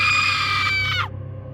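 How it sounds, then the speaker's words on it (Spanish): A harrowing scream sound effect: one loud, piercing high shriek held for about a second, then sliding downward and cutting off abruptly over a low hum. "Era un grito desgarrador."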